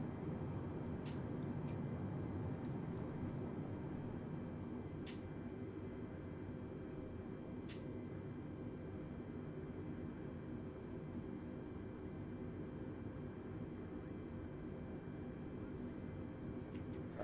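Steady, low roar of a Delta A320neo's engines heard from inside the cabin as the jet begins its takeoff run, a constant broad rumble at even loudness with a few faint clicks over it.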